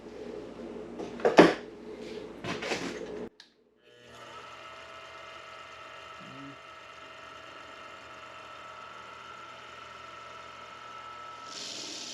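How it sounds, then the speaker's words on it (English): A 23mm bit bores a hole in wood for a custom ring, giving a steady mechanical whir that runs evenly for several seconds after a brief pause, close and moderately quiet. "got a 23mm bit, and I'm going to go ahead and bore the hole"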